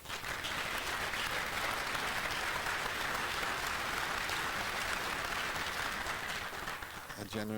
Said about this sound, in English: A generous round of applause.